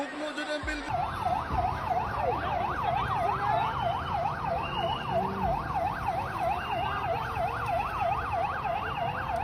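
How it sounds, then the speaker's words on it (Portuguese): A police siren wails steadily in a rapid rising-and-falling pattern, loud and continuous over traffic noise, after an earthquake in the Philippines. "Sirenes de polícia tocando."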